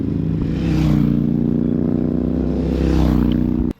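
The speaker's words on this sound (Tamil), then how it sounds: "அப்படியே பார்த்தீங்கன்னா ஜிடி சவுண்டு கேளுங்க" A Royal Enfield GT motorcycle engine runs loud and close with a steady, deep throbbing drone for several seconds before cutting off abruptly near the end.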